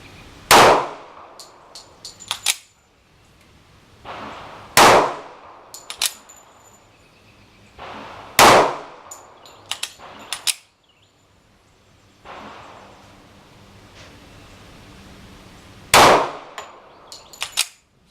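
Pistol rounds from a Taurus PT145 striking a tin can target outdoors, a series of sharp gunshots each followed by a bright metallic clang, fired in spaced clusters with quiet gaps between them.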